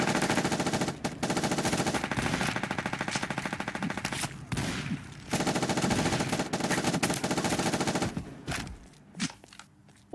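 Rapid automatic gunfire from a fast competitive PvP mobile first-person shooter with counter-terrorist and terrorist factions, Special Forces Group 3, loud and near in sustained bursts with brief pauses, no talk.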